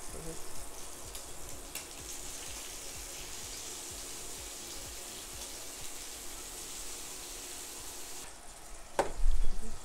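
Shrimp frying in a pan give a steady, broad sizzle that holds evenly for most of the stretch, then a brief louder clatter of handling near the end.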